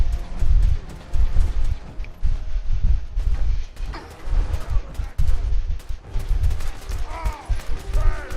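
Loud gunfire from the game Fallout 4 comes in repeated heavy bursts and pulsing volleys, close and punchy, with a voice briefly heard between the shots.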